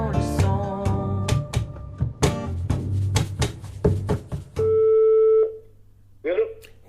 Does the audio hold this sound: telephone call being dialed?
yes